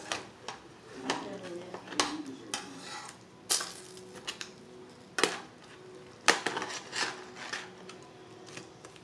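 Pork chops being turned in a frying pan produce scattered sharp clanks and scrapes of utensil against metal, close by and spaced irregularly over a quiet background.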